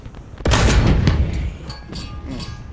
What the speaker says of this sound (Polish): Strzał mój troszeczkę za wysoki.